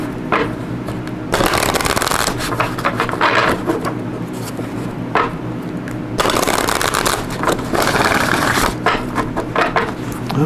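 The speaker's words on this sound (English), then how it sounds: "Go ahead and shuffle these up here." Oracle cards are shuffled by hand in two long bursts of rapid, crisp riffling and flapping, separated by quieter handling, close and clear with no talking.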